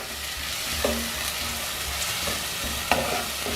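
A butter beans masala gravy sizzles steadily in a pan as it is sautéed, with occasional stirring scrapes over the constant frying hiss and no talking.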